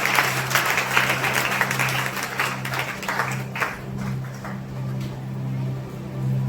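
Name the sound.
congregation applauding in church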